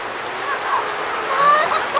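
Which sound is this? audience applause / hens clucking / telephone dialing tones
hens clucking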